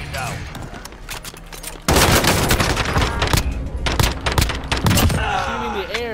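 Rapid gunfire in the Warzone video game, a dense burst of automatic shots that starts abruptly and keeps going loud and close, with voices heard over the shooting.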